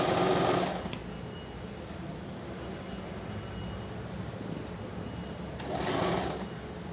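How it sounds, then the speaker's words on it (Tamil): A sewing machine stitches the side seam of a pair of pants in two short bursts, one at the start and one near the end, with a quieter mechanical hum running between them. "இதே மாதிரி இந்த சைடும் ஸ்டிச் பண்ணிவிட்டு இன்னொரு சைடும் நான் ஸ்டிச் பண்ணிவிட்டு கொண்டு வரேன்"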